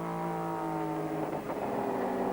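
Porsche 944 Turbo race cars in a 1997 Pirelli Porsche Cup race roar past with a steady, sustained engine drone that shifts pitch midway as the cars go by.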